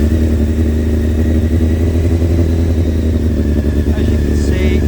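A motorcycle engine kept in a shed starts up and settles into a steady, loud idle close by, with a continuous low rumble throughout and a slight rise in revs near the end.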